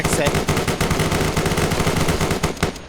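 Rapid automatic gunfire crackles nonstop as squads shoot each other in a Zeus operation video game, dense bursts of shots layered close and loud with little pause.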